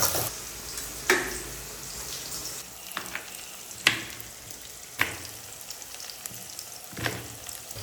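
Onions with ginger frying in a pan over high flame, a steady hiss and sizzle punctuated by several sharp spatula scrapes and clacks as they are stirred, close and moderately loud.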